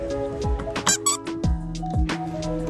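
A squeaker toy set inside the foam nose of a homemade rabbit fursuit head is pressed repeatedly, giving a rapid run of loud, close, high-pitched squeaks over a constant low hum.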